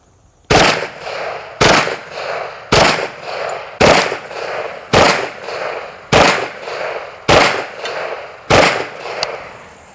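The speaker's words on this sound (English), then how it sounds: "The 45 ACP is brand new, and I think these double taps coming from the Kriss are going to be really devastating downrange" Kriss submachine gun firing .45 ACP double taps at an outdoor shooting range: eight sharp paired bursts at a steady rhythm, each crack loud and close with a short ringing tail, no talking.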